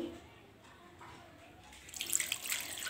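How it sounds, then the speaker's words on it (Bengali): Water being poured into a fish curry mixture of bata fish with bottle gourd peel and chopped coriander, a soft splashing pour that swells near the end after a quiet start. "এখন আমি পানি দিয়ে দিচ্ছি।"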